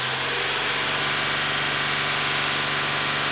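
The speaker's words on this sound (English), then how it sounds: "Raise the engine RPMs." A Honda Accord engine, which has a cylinder-deactivation misfire fault, holds a steady raised-RPM drone. The hum is loud and close and stays level throughout, with no speech.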